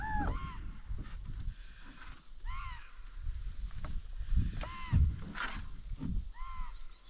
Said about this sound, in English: Some crows not very happy with me coming by